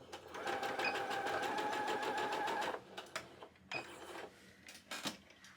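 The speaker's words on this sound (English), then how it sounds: "and then sew that last edge" Sewing machine stitching along the last edge of fabric for a bow garland: a fast, rapid close stitching run for almost three seconds, then a few shorter bursts with brief pauses between them.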